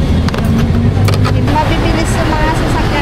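Road traffic roars past close by in a steady, loud rush of engines and tyres, with vehicles speeding along without a break.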